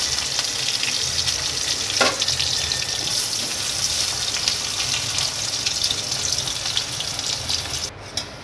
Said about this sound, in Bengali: তেল গরম হয়ে গেলে জিরে আর তেজপাতা ফোড়ন দিয়ে আলুগুলো ভেজে নেব।